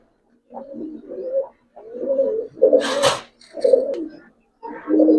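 Giribaz pigeons with silver coloring coo close by in soft, throaty phrases broken by short pauses, with a brief rustling scrape in the middle.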